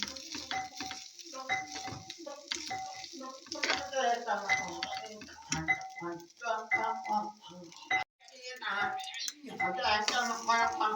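A spatula stirs garlic fried rice with turmeric powder in a pan, giving soft sizzling and clattering scrapes under someone talking throughout.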